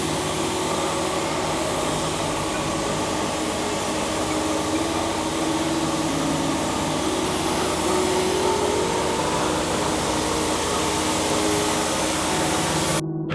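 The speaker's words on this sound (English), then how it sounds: "We've got an intermittently dying compressor." Air compressor running steadily and loud throughout while car panels are spray primed, a continuous broadband hiss and drone with no talk, cutting off abruptly at the end; the compressor is intermittently dying.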